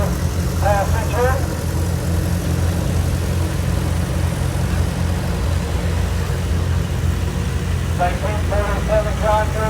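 A 1947 John Deere Bean tractor engine runs steadily at a low, constant throb during an outdoor tractor parade at the Florida Flywheelers show, with an announcer's voice over it at times.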